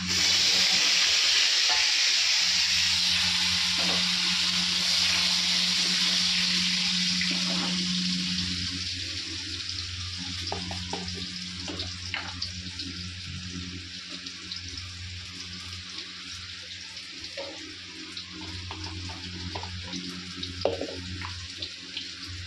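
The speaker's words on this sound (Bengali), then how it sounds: "আর আমি তেলের মধ্যে এখন এই আলুটা ভাজা" Potatoes fry in oil in a pan with a steady, loud hiss at first, settling into quieter crackling and popping over a long stretch.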